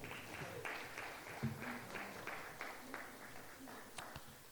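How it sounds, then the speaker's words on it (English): An audience at a close-out ceremony gives a round of applause, a steady, fairly faint wash of clapping heard from a distance, carrying on evenly with a few louder individual claps. "A round of applause, please."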